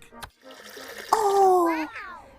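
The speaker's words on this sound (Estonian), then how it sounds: "See nupp paneb tööle kraani." In a cartoon camper van, a push button turns on a water tap, and a short whistling, rising tone and a gush of running water follow a brief click, with a voice earlier.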